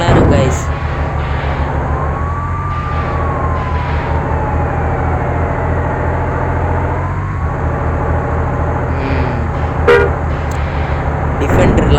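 A fire engine horn in the Bus Simulator India driving game, heard as sustained tonal honks over steady engine drone, with a voice talking throughout.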